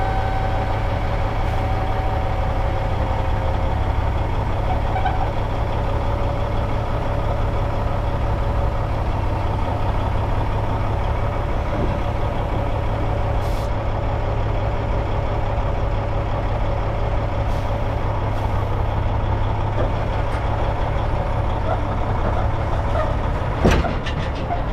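A truck called Duke idles and rumbles steadily while pulling trailers, a low continuous engine drone that stays close and even throughout, with no talk over it.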